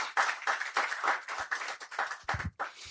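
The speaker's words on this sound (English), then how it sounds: "Can we give him a round of applause?" A small audience at a construction and real estate outlook event claps for a few seconds, the individual hand claps loose and irregular and heard nearby.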